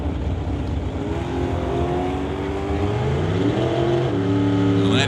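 Two drag racers launch together, a 2018 Golf with a 2-liter turbo and a blue 1969 Acadian, their engines revving loud and rising through gear changes in steady overlapping harmonic sweeps, with a commentator's voice faintly under the roar.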